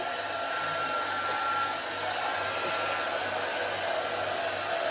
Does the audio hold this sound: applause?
no